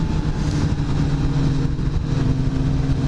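A Kawasaki ZX-10R sportbike engine drones steadily while being ridden, close and continuous with a constant low hum and no gaps.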